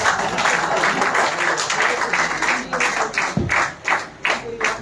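Audience at the Shabdakshar Chennai literature festival claps as guests are called to the stage, a loud, dense burst of applause that thins into scattered separate claps near the end.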